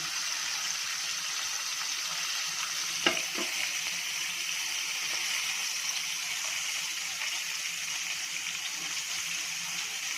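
KFC-style chicken broast pieces fry in hot oil with a steady, even sizzle that runs alone throughout, broken once by a brief soft knock.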